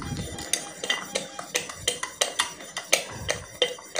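A four-stroke motorcycle engine valve is lapped against its seat with grinding compound, giving close, evenly spaced metallic ticks and scrapes, roughly three per second, alone and without talk.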